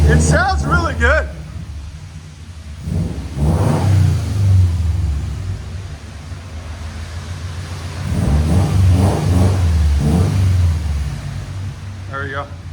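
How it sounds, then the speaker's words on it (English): A 2015 Subaru WRX STI with downpipes and a Flowmaster Flow FX exhaust rumbles and revs in a few swells, with people talking briefly at the start and end. "It sounds really good."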